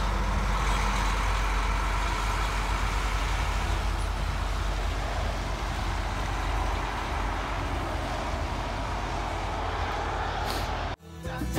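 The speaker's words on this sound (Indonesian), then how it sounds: "Ini truknya baru lewat nih" A truck passes close by at a weighing station in Indonesia, a steady loud roadway rumble throughout that cuts off abruptly near the end, with faint voices beneath.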